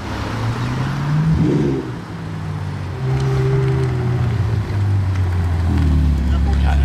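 BMW M3 G80 starting up and pulling away, a steady deep engine drone with rising and falling tonal sweeps as it moves off, heard at some distance with people talking over it.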